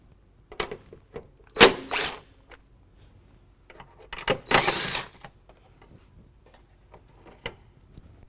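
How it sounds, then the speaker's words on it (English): Phillips head screws being removed from a 2016 Toyota Tacoma grille: sparse close clicks and ticks, with a few louder scraping bursts in the middle, and no talking. "We also need to remove these two Phillips head screws."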